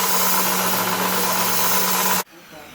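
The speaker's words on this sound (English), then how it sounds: "so here we go for the last grinding on the first blade" A seax knife blade forged from a file pressed against a powered grinder, a steady loud whine with a constant hum that cuts off abruptly near the end, leaving a quiet room.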